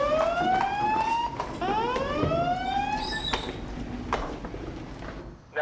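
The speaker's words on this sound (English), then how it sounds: "Suddenly, the alarm sounds and they're off." Fire station alarm sounding loudly and continuously in the late afternoon, with repeated rising electronic sweeps and tones that fill the whole clip alone.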